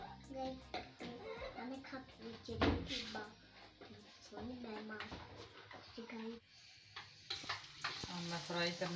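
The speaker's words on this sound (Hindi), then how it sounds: "अब मैं फ्राई करने लगी हूँ।" Pakoras fry in hot oil with a steady sizzle and occasional spoon clinks, heard under someone talking and a voice nearby.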